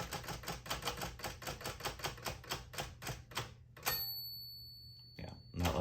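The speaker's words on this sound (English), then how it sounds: "when you're typing and you get close to the end of the line, there's a bell" A 1959 Smith Corona Sterling manual typewriter is typed on in a quick, even clatter of keystrokes, then a single clear bell rings near the end of the line and fades, followed by a carriage clunk.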